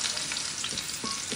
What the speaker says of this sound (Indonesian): Siapkan wajan, tambahkan minyak. Kalau sudah panas, kita mau tumis bawang merah,